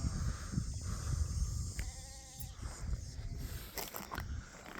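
Goats on a farm in Kazakhstan, with sheep also present, bleat intermittently at mid distance over steady outdoor background noise, with faint rustling and movement between calls.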